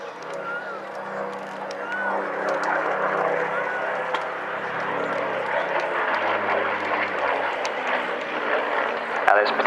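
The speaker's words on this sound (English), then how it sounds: "this particular aircraft was built in Castle Bromwich" Vintage Battle of Britain Memorial Flight aircraft, one built at Castle Bromwich, flying past at Bournemouth Air Festival, a loud continuous piston-engine roar beneath a commentator's voice over loudspeakers.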